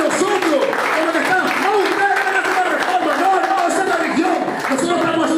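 A church congregation applauds steadily during a sermon, a dense wash of clapping that carries on under an ongoing voice.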